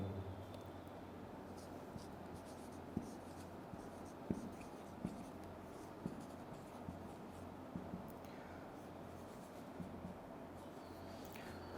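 Pen or marker writing out whole numbers in tabular form during a math lecture, a quiet, steady scratching with small taps over a constant low hum, faint and continuous, with no talking.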